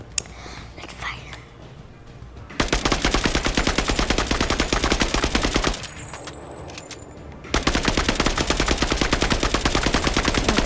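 Rapid automatic gunfire in Marvel's Avengers rattles out in two long, loud bursts, separated by a brief lull, with a whispered voice at the start.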